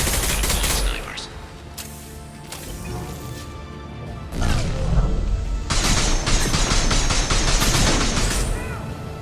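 Sniper rifle fire and battle noise in the video game Mass Effect 2: several heavy shots and bursts with metallic mechanisms and crashes, dense and loud, with voices talking faintly beneath the gunfire.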